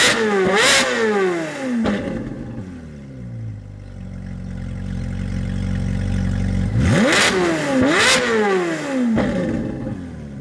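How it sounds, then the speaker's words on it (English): Ferrari with a full exhaust revving hard, two sharp rising blips at the start and two more near the end, with a lower steady engine drone in between, loud and close. "One of the best sounding Ferraris I've ever heard. And I guess just the full exhaust does that."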